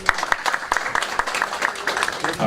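Steady, dense applause from an audience at a senatorial candidates' forum in Rio Grande do Norte, Brazil, welcoming a candidate. Crisp, close hand claps continue throughout with no break.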